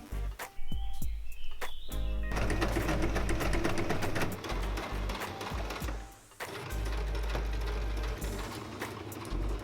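Sewing machine stitching the sides of an upcycled handbag, starting with a few short bursts, then running in a fast continuous mechanical whir and rattle, pausing briefly and resuming.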